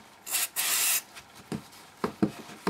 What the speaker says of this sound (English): Just going to use some brake cleaner.